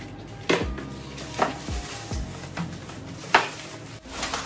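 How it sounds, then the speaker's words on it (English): A Mistral MIHC1800 induction cooker is lifted out of its styrofoam packing box with several sharp, close knocks and clatters spaced a second or so apart, over a quiet room background. "I've taken the induction cooker out of the box"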